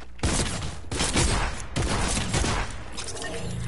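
Rapid gunfire in a shooter video game, a dense loud burst of repeated shots with sharp cracks running almost continuously, close and harsh, with no talk.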